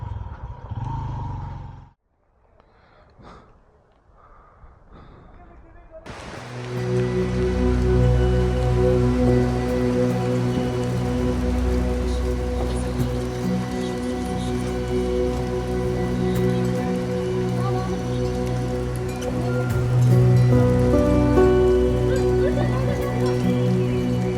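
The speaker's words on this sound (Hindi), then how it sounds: "बारिश बहुत तेज़ शुरू हो गई है" Heavy rain starts after a brief quiet moment in Shounter Valley, Azad Kashmir, and pours steadily, a loud dense drumming on nearby surfaces with clattering drops and no voices.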